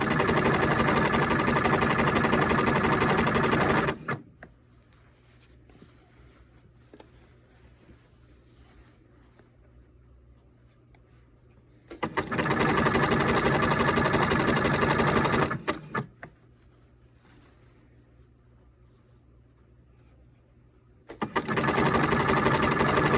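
A sewing machine stitches sweatshirt fabric for a quilter's coat sleeve in two steady, loud bursts with a pause between them and a third run starting at the end, alone without talk.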